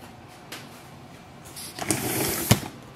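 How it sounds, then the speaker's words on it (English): A Brother MFC-J4335 printer is shut after clearing a paper jam: a soft bump, then scraping and plastic rattling, ending in one sharp loud clunk as the cover closes. "Push it down and close."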